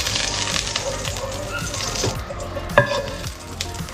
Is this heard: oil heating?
yes